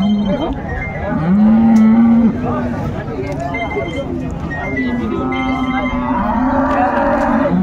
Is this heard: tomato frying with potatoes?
no